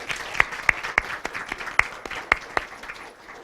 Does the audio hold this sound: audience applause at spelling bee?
yes